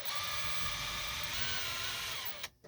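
Cordless power drill runs continuously as it drives screws into the plastic door of a Dometic RV refrigerator while fitting a hinge brace, a steady whirring buzz that stops abruptly at the end.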